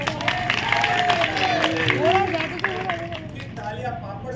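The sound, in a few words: audience clapping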